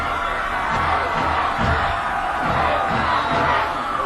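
Football crowd at a high school quarterfinal game roars in a sustained, distant wash of voices, with rhythmic swells suggesting a chant rising and falling over several seconds.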